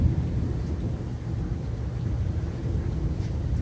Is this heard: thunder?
yes